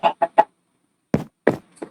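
A chicken in a farming video game clucks in short, clipped calls, first three quick ones, then a pause, then a few more, close and clear against silence.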